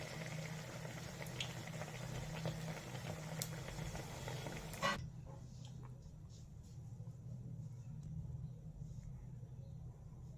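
Chili fritters, mirchi bajji, sizzling in a pan of hot oil: a steady, dense bubbling hiss throughout that softens partway as the first batch comes out and a second batch goes in.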